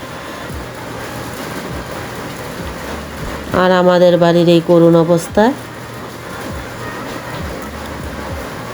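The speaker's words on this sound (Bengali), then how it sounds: "দেখুন এত বৃষ্টি আসতেছে, এত বৃষ্টি আসতেছে" Heavy rain pours down in a dense, steady hiss that lasts throughout, while a person speaks briefly over it in the middle.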